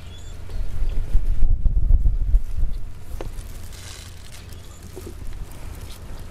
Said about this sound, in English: Has some wind picking up here.